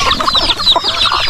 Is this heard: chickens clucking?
yes